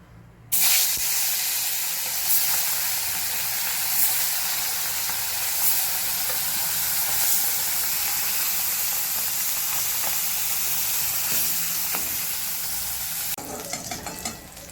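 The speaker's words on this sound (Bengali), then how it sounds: "মাছে লবণ হলুদ লাগানো হয়ে গেছে এখন মাছগুলোকে ভেজে নেওয়া হবে" Koi fish coated in salt and turmeric frying in hot oil, a loud, dense, unbroken sizzle and hiss that fills the whole stretch with faint spatter pops, no voices.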